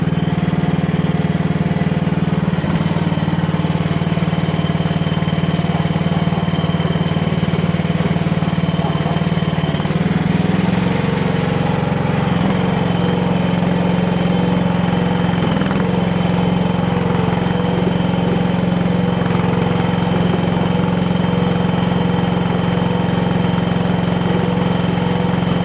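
A Chinese H15R mini excavator's engine runs continuously while the machine drives, giving a loud, steady droning rumble with a strong low hum that shifts pitch slightly midway, heard close and alone.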